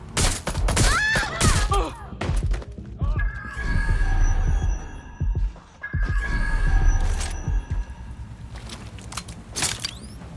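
Gunfire in the Watch Dogs: Legion video game, a burst of rapid shots at the start followed by intermittent mechanical clatter and tonal game effects, loud and close.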